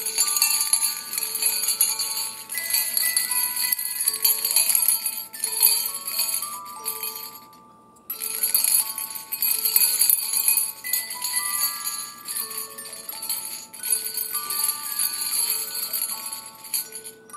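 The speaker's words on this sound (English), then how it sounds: "I want to try and see if the bells work." Bright, high metallic tinkling rings out continuously, with a short pause midway before the chiming resumes at steady volume.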